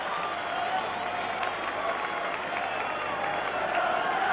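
A football stadium crowd at a European Cup semi-final applauds as the teams walk out, a dense, continuous wash of distant clapping and murmur under a commentator's voice.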